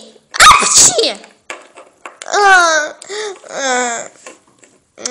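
A sharp, sudden sneeze bursts out up close, followed by a few drawn-out voiced sounds and brief pauses.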